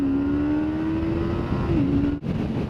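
A motorbike accelerates along a sunny road, its engine holding a steady drone that dips briefly and then resumes, with wind rush heard close to the rider.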